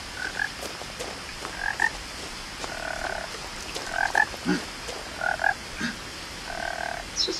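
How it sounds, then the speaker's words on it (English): A frog croaking in What Remains of Edith Finch, repeated short croaks and longer trilled calls coming in irregular bursts over a faint ambient background, with no talking. "It's just a frog."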